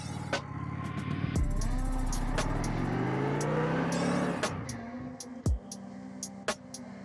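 2025 Indian Scout Bobber motorcycle accelerating to about 25 mph, its engine note rising through gears with close rumbling revs, then easing off as it brakes to a stop, followed by a few short clicks and thumps.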